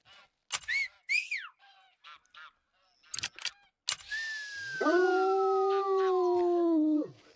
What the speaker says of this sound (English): There's a howl just for you, Steve.